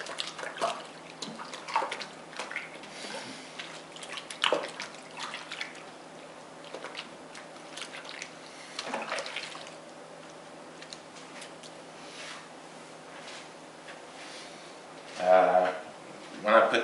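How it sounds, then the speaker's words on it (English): Hands are washed under running water during barbecue pork preparation, a soft, steady splash with faint drips and clinks, fairly quiet throughout, with a brief louder burst of water near the end. "Wash my hands again real quick."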